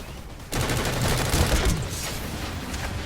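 Rapid automatic gunfire from a Planetside 2 firefight on PS4, a dense continuous burst of shots that starts abruptly, stays loud and sustained, then eases slightly toward the end.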